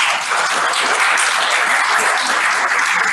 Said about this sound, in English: can we give Johanna a big round of applause?